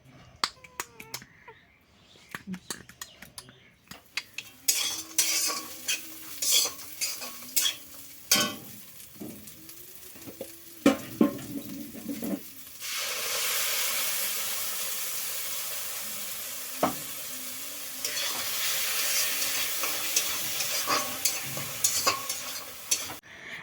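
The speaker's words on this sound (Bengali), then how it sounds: "পেঁয়াজ ফোড়নে দিয়ে দিয়েছি" Onions frying in hot oil for a soybean curry with potato and egg, a steady sizzle and hiss from about 13 seconds on, with stirring clatter and clicks earlier and no talking.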